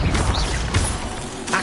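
A short, loud burst from the Incendio fire spell in the wizarding game Hogwarts Legacy, with a crackling, whooshing blast over about a second and a half.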